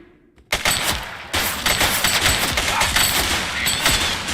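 Sustained, loud gunfire from The Precinct police game, with dense overlapping shots after a brief quiet start, intensifying into a continuous close fusillade of rapid bursts.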